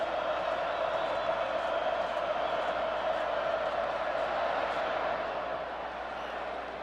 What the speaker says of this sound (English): the crowd still into this thing